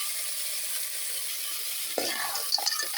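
A spoon stirs mussels in a pot of tinola soup, with steady bubbling and sizzle throughout, followed by a few clinks and scrapes of the utensil near the end.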